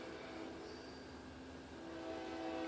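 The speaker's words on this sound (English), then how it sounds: "The train is coming." A train approaches and passes, a steady loud rumble of rail wagons with a sustained horn-like tone, growing slightly louder toward the end, no voices.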